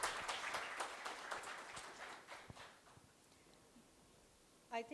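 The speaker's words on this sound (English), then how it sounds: "Once again, a big round of applause for him." Audience at a fireside chat forum applauding a sponsor, a burst of clapping that fades over a few seconds, fairly faint and distant in a hall.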